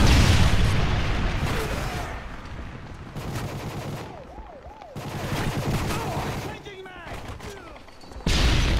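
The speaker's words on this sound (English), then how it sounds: "Friendly Predator missile inbound." A Predator missile explosion in a multiplayer shooter game hits as heavy booms and rumbling blasts mixed with gunfire, loud and dense, with electronic game announcer voice lines and tonal beeps between the impacts.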